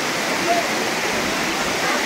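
Water pours down steadily at Korigad fort near a cave and Ganesh temple, a continuous close rushing hiss like a small waterfall.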